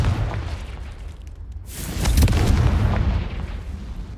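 A Confringo spell explodes in Hogwarts Legacy, a sudden loud burst about midway through that rolls on as a rumbling blast over low ambient noise.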